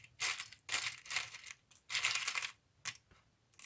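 Small craft coins for a boho tassel are dropped in several quick bursts of bright metallic clinking and jingling, separated by short pauses, close and fairly quiet with no talk.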